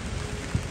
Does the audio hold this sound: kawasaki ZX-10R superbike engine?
no